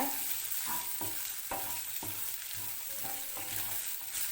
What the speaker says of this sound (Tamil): இந்த மசாலாவோட பச்சை வாசனைலாம் கொஞ்சம் நேரம் வதக்கிக்கோங்க.